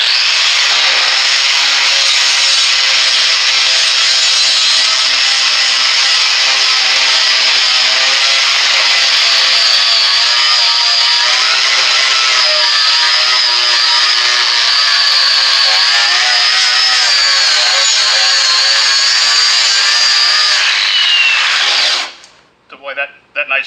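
An angle grinder fitted with a coarse 40-grit flap disc strips scale off metal in one long, loud, unbroken abrasive roar with a harsh whine, running steadily for over twenty seconds before cutting off abruptly.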